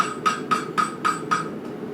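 Steel bar shoe for a horse hammered into shape, five evenly spaced ringing metallic blows, close and moderately loud, each with a short bright ring.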